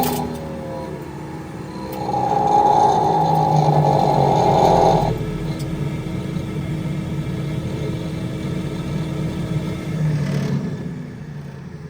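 An automatic fish feeder winds up and spins, giving a loud steady whirring hum for a few seconds that cuts off abruptly, leaving a quieter mechanical drone and background hum.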